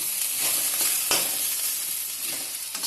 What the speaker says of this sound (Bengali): দেখো আদা রসুন এগুলো সব ভাজা ভাজা হয়ে গেছে